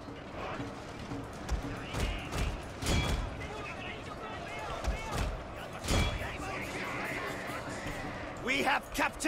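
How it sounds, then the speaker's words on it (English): Musket volleys and gunfire from an army opening fire in the strategy game Total War Shogun 2, several sharp bursts scattered over a busy battle din, with voices talking throughout. "let's fire upon them"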